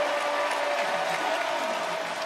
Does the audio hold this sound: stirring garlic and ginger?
no